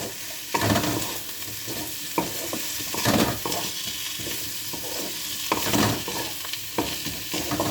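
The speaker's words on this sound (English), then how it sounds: "now mix it well for a 30 seconds at least" A spatula stirs Chinese-style aloo gobhi, potatoes and cauliflower, in a hot pan. Scraping strokes come in loose repeated bursts over a constant low sizzle of frying, close up with no voices.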